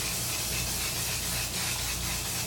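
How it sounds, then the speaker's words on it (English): Facial setting spray goes on during a makeup routine, heard as a steady close hiss that runs without a break and has no voice over it. "Let me go ahead and spray my face down."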